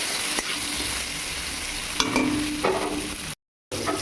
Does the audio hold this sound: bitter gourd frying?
yes